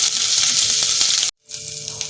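Papaya and potato pieces seasoned with salt and turmeric sizzle steadily in a pan, with the frying cutting out for a split second before resuming.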